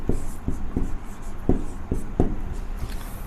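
Chalk or marker strokes on a classroom board during a geometry lesson, a series of short sharp taps and scratches at an uneven rhythm, fairly close and clear over a quiet room.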